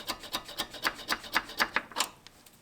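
A drill bit turns slowly on its lowest speed setting, giving about a dozen evenly spaced rasping pulses, close and fairly quiet, with no talk.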